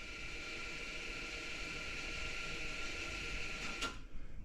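Electric parking brake motor on a 2015 Porsche Macan Turbo driving the rear caliper to its installation position: a quiet, steady mechanical whir for about four seconds, ending in a brief sharp click and a stop.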